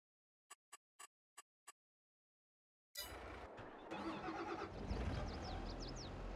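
In Farming Simulator 22, a few short clicks come first, then after a pause a tractor engine cranks and catches. It settles into a loud, steady running rumble that rises slightly near the end.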